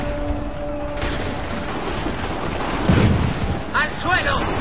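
Gunfire crackles in an Assassin's Creed III battle, a dense fusillade of overlapping shots and booms rumbling through a loud, noisy scene, with a heavy blast near the middle and shouting voices mixed in toward the end.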